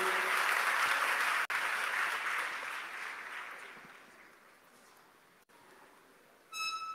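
Applause from a church congregation acclaiming the Lord for a deputy, a dense sustained clapping that starts loud and gradually thins and fades, with a short burst of tones near the end.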